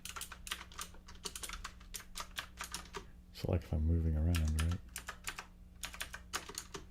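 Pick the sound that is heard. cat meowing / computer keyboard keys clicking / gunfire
computer keyboard keys clicking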